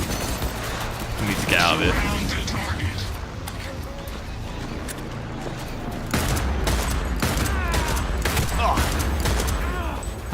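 Pistol fire in Cyberpunk 2077, sharp repeated shots in quick volleys mixed with other gunfire and mechanical clatter; someone talks over much of it.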